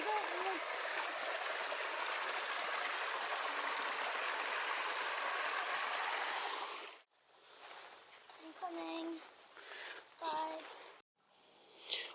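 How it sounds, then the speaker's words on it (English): A small hidden waterfall beside the Great Western Canal gives a steady broadband rush of falling water for about seven seconds, then cuts off abruptly and a voice speaks over quieter outdoor background. "Little secret hidden waterfall."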